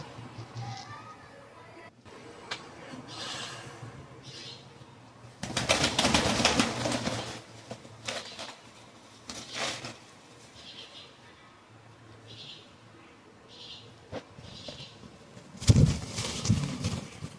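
Giribaz pigeons coo softly in the background, with a few louder bursts that sound like wings flapping, under some faint talk.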